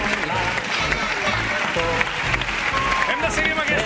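A studio audience applauds steadily during a TV3 game show as players leave to change teams, with a voice talking over the clapping.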